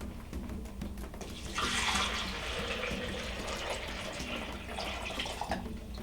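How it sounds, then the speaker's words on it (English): Water runs steadily into a coffee maker, a continuous splashing pour of about 8 cups that swells after the first second and keeps going without any voices. "we're going to start off by loading the coffee maker with water"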